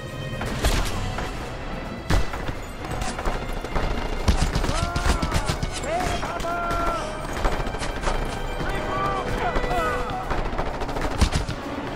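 Rapid bursts of gunfire crack through a Just Cause 2 video game firefight, with machine-gun volleys and single shots stacking up loud and dense, layered over game effects and a few voices.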